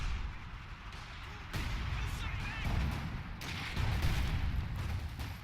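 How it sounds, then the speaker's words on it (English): Mortar fire in a World War II strategy game set in the Battle for Caen at Bretteville gives repeated low booms and rumbling blasts over a continuous battle din, with a commentator's voice partly over it. "Pretty dangerous with all this mortars around"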